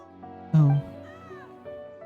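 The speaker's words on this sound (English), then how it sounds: "Meow, meow, meow." A cat gives one loud, clear meow, followed by softer, wavering mewing sounds and a short cry at the end, heard close up.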